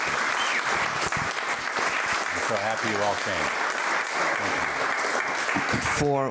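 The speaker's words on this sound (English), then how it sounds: "Let's have a good round of applause" Applause for a guest speaker at a speaker-of-the-month event, continuous clapping from the crowd running throughout while someone talks over it near the microphone.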